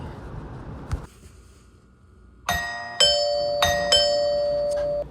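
A newly installed replacement doorbell, fitted after a broken one, gives a soft click and then rings several bright, close chime strikes in quick succession, with each ding overlapping the ringing decay of the one before.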